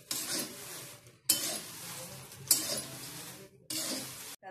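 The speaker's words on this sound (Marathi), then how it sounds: "आता आपलं तमालपत्र पण छान भाजून झाले, दगडफूल आणि तमालपत्र दोन्ही भाजलेले." Bay leaves and dagad phool (stone flower) dry-roasting for goda masala, stirred around a pan in steady scraping sweeps with soft crackle, several bursts broken by brief pauses, close and alone.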